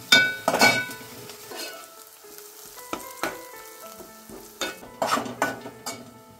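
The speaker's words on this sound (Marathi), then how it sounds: "लसूण, कढीपत्ता टाकले आपण. आता चांगलं एकदम फोडणी बसले नाही आपण" Garlic and curry leaves sizzle in hot tempering oil in a pan, a continuous frying hiss broken by scraping stirs and light metallic clinks of a spoon against the vessel, close by.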